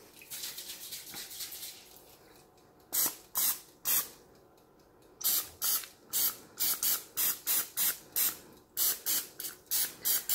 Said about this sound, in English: Okay, time to apply the spray.